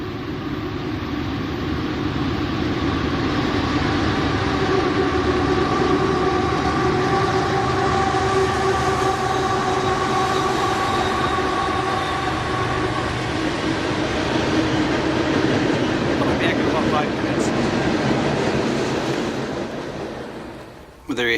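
A train rumbles past near a bridge during a March kayak outing, a loud continuous rolling roar of wheels and cars that holds steady for a long stretch before tapering off.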